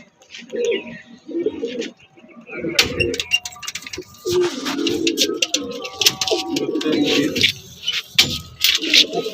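Pigeons coo in a series of soft, throaty bursts at close range, with occasional light clinks and rustles in between and some background voices mixed in.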